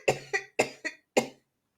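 One adult fits into a run of five harsh, chesty coughs in quick succession, close and fairly loud, then falls silent.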